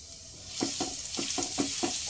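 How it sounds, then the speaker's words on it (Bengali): Grated garlic fries in hot mustard oil, a steady loud sizzle with a regular rhythm of spatula strokes scraping the pan roughly every quarter second, close up and with no voices. "কুড়ি থেকে তিরিশ সেকেন্ড একটু ভেজে নেব"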